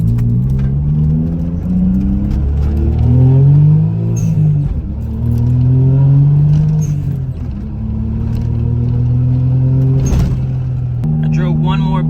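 A Suzuki Cappuccino with an idle problem and a check engine fault accelerates hard down a block, its small engine revving up and down through several rising and falling surges, loud and close from inside the car.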